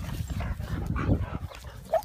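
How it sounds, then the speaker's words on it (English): Great Dane and black Labrador tugging a toy between them, giving continuous low growls and grumbling with brief whimpery yips, close and steady, no talking. "Doggy tug of war."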